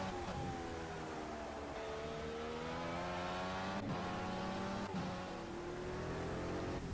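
An Indycar taking turn 3 at Laguna Seca, its engine droning high and steady, pitch dipping under braking, then two abrupt gear shifts before the revs climb again on exit, loud and continuous without talk.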